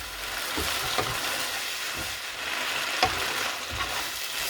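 Egg and cheese cooking in a pan for spaghetti carbonara give a steady soft sizzle with occasional light clicks of stirring, close and moderately quiet, no talk.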